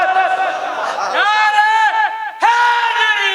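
A large religious gathering roars back in unison with a drawn-out chanted response, two swelling shouts from many voices filling the space loudly and close.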